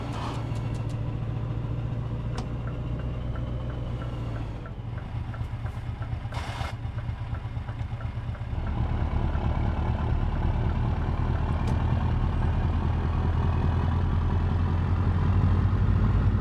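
A modded 1,100-horsepower heavy truck engine in a trucking video game pulls from low revs, a steady, loud diesel drone that deepens and grows heavier partway through, with no speech.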